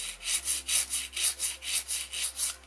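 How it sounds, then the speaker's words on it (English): A nail file rasps across an acrylic stiletto nail in quick, even back-and-forth strokes, about ten soft scratchy passes close up with no talking. "So I always rock my file a little bit as I'm filing."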